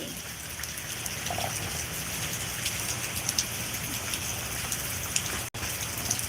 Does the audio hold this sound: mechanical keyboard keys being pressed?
no